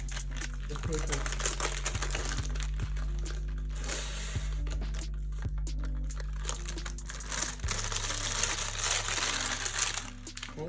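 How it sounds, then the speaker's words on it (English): Paper crinkling and crumpling as it is peeled away from a slab of homemade granola bars, close and fairly steady, over a constant low hum and music-like background. "Let's try to lift off the paper."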